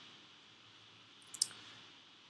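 A single sharp mouse click, close and brief, in an otherwise near-silent room while selecting Visual Simulation from the Evaluate menu of a modelling software tool.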